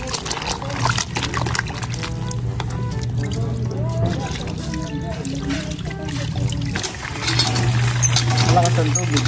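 Running tap water pours and splashes as bananas are washed in a basin, a steady trickling stream with light clatter, heard under ongoing conversation.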